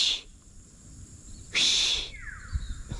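Small birds call from trees overhead in autumn, with a few sharp, bright chirps and a descending whistled note at moderate distance, separated by quiet outdoor background and soft low thumps.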